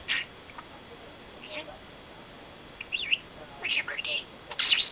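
Small chirps and tweets from a pet budgie, a talking bird, come in brief bright bursts, sparse at first and busier toward the end, over a quiet indoor background.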